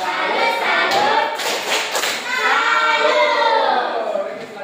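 A classroom group does a rhythmic patterned clap-and-chant salute during a teacher training session, loud and close, with voices chanting along over the clapping.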